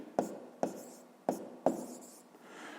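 A pen writes numbers by hand on paper in four quick, distinct strokes, each a sharp scratchy tap that fades fast, close up and alone with no talk.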